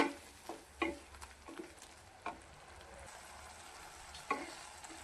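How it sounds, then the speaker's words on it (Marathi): Spiced masala with fenugreek leaves and green peas sizzles softly in a pan, broken by a few sharp scrapes and clinks as a spoon stirs it. The sounds are quiet and close, with no talk. "मसाला चांगला फ्राय झालेला आहे, तर एकदा आपण मिक्स करून घेऊया"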